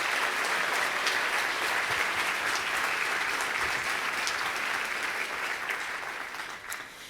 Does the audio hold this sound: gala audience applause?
yes